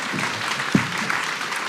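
A festival audience at Minds Fest 2023 applauds a panel, a steady wash of many hands clapping with one louder clap near the middle.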